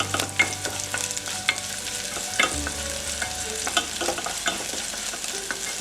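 Scallions stirred into a pot of rice while eggplant and potato curry cooks nearby, giving scraping stir strokes and light clinks over a soft steady sizzle, with no talk.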